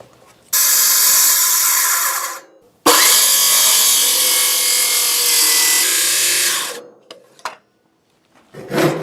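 A handsaw cuts through a wooden shed rafter in two long, loud rasping bursts, separated by a brief pause, then ends in a few short scrapes and knocks.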